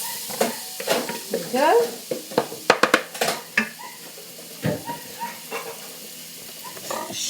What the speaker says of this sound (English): just pop that into the pan there, like that. You can hear it sizzle.